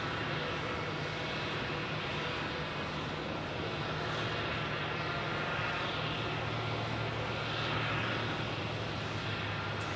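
WestJet airliner at Phoenix Sky Harbor Airport, heard as a steady, loud engine roar with a constant low hum that holds throughout, no voices over it.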